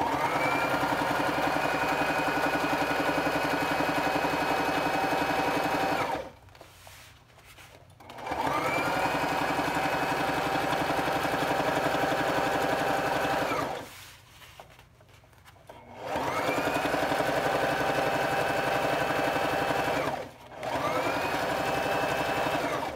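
A sewing machine stitches the seam of a heat press pillow, running in steady whirring bursts of several seconds each, separated by brief pauses and a final short stop, loud and close with no talking.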